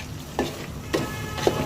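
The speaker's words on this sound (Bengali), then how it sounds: "আমি এখন একটা মাংসটা নেড়ে দেবো" Meat cooking with Radhuni ready-mix roast masala is stirred in a pot, three brief scraping strokes at even intervals over a soft background simmer.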